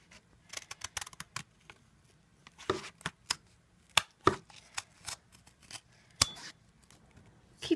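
Scissors snip through a glued yarn shape for a 3D decoration, with irregular crisp clicks and crunchy cuts in short bursts, close and fairly quiet.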